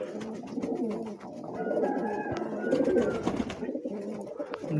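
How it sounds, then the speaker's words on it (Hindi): Several white pigeons cooing close by, overlapping low throaty coos repeating in soft rolling phrases, with a faint background hiss and no talking. "देख सकते हैं सारे कबूतर कितने हैं मेरे पास।"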